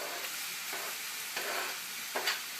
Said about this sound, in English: I'm going to add the onion.